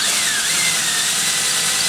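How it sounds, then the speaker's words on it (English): A hand drill rounding out lug holes in a wooden stave drum shell gives a steady, loud, high-pitched whirring grind that runs continuously and close up with no speech. "So I'm taking a hand drill and just rounding those holes out just a little bit."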